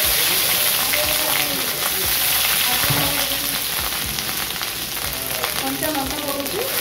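Garlic and chopped ginger sizzle steadily in a hot pan, a continuous dense crackle with occasional stirring scrapes, close and loud throughout.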